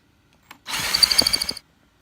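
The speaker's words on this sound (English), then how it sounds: "I need to drill it 1 1/8 inches." A power drill bores a hole for a desk foot, one short burst of about a second with the motor whining and the bit grinding into the wood, starting and stopping abruptly in a quiet room.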